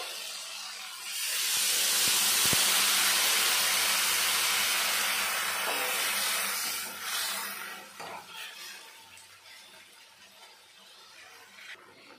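Water poured into a pan of fried taro stolons sets off a loud, rushing hiss that holds for several seconds, then fades into a softer, bubbling sizzle.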